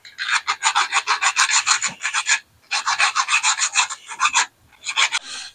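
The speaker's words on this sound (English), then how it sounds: "Let's get a file that out." A hand file rasping metal to correct a spacer fitting, in quick back-and-forth strokes grouped into three bursts with short pauses, close and fairly loud, with no talk.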